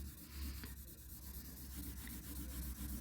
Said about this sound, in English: So right now I'm not pressing too hard with the blending stub